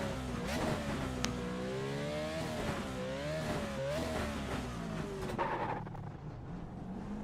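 A race car engine in a racing video game wails at over 11,000 RPM, a loud, sustained whine that wavers up and down with throttle changes and then fades toward the end.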